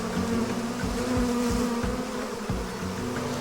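Honey bees from a first-year swarm at an open hive in Corsica, droning in a steady, dense buzz that fills the whole stretch up close with no voices.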